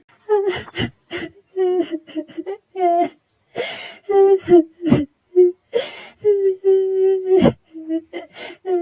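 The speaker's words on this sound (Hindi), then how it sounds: "तभी वो लोग किसी की रोने की आवाज सुनते हैं" A girl sits with her head down crying, with close, broken sobs, gasping breaths and whimpering wails coming in uneven bursts separated by short silences.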